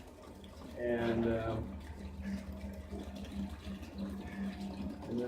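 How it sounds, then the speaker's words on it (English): Liquid drains from a soft ice cream machine's tanks and mix reservoirs, a steady watery wash running under a voice. "we're going to drain the machine out"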